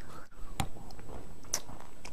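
Someone bites into a crunchy cacao nib treat made with unrefined coconut oil and salt, a couple of close crisp crunches followed by soft chewing.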